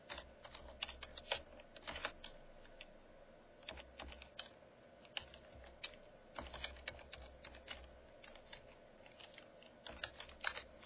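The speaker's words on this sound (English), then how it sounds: "All you do is type in the web address of the Facebook page." A web address being typed on a computer keyboard, heard as a steady stream of soft, close key taps in irregular clusters, with no one speaking.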